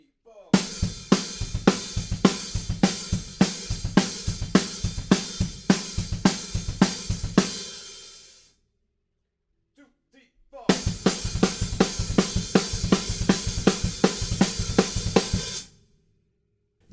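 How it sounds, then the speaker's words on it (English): Drums in a punk beat from a verse, fast driving hits with crashing cymbals, a roughly two-second break of silence, then the pattern resuming before cutting off, near and loud with no voices. "Second verse, we've changed up that punk beat just a bit, and now it sounds like this."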